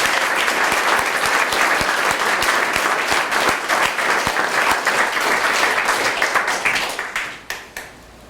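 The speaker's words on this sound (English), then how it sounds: "Let's give them a clap as well." An audience at a youth speech competition claps for the judges, timers and helpers, loud, dense and close, then tapers into a few scattered final claps.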